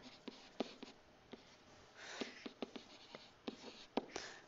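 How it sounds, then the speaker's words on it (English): An equation for the line through a distance between parallel lines is written by hand, pen or pencil scratching in short, irregular strokes close up in a quiet room. "Step one is going to be actually to write"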